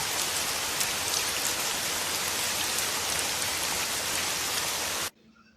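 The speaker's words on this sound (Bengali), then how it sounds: "সকাল সকাল পুতুলের বাড়িতে খুব জোর বৃষ্টি নামলো" Heavy morning rain pours down in a dense, loud, steady roar that cuts off abruptly near the end.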